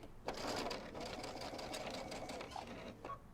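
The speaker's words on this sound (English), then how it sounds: "And pivot and sew off." A sewing machine stitches a seam on a kimono robe, a close, fast mechanical whirring and chattering that runs continuously for a few seconds before stopping.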